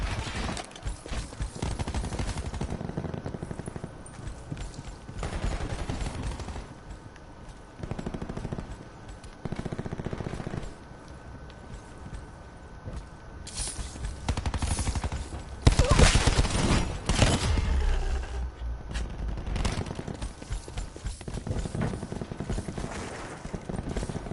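Video game gunfire rattles almost nonstop, rapid automatic bursts and single shots layered densely at close range, swelling into a louder barrage partway through, with a few voices talking over it.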